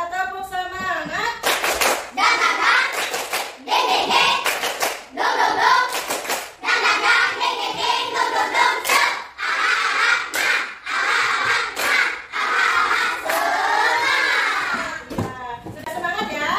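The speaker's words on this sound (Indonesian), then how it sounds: "Tepuk semangat." Children in a classroom do a rhythmic spirit clap, with patterned bursts of claps broken by short pauses as they loudly chant along in unison throughout.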